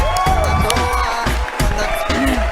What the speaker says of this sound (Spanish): Y un fuertísimo aplauso para todos.